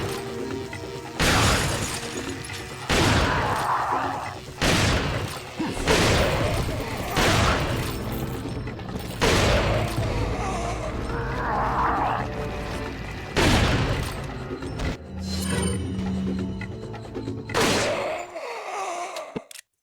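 Large machine guns fire in the video game Resident Evil 4. Repeated loud bursts of gunfire and impacts come in uneven clusters, separated by short lulls with groans and other game sounds.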